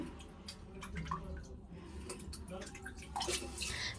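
Water runs and splashes as paneer is washed in a home kitchen, a steady faint wash of flow with scattered drips and clinks and a hint of voice in the background.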